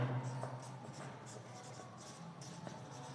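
Pen scratching out an answer during a Hindi thermodynamics lecture, a run of soft quick strokes close by over a faint room hum, with no talking.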